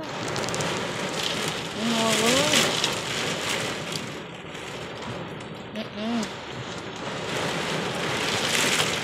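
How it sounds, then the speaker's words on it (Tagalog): Heavy pouring rain drums steadily on surfaces in a dense, loud wash, with faint voices talking briefly underneath. "Grabe yung buhos ng tubig."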